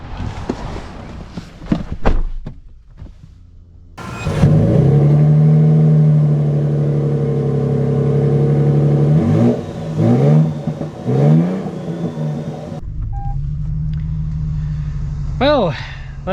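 A 2025 Toyota Tundra TRD Pro starting up and running with a deep steady engine drone, near and loud, swelling briefly as it revs, after some clicks and handling sounds, with someone talking over parts of it.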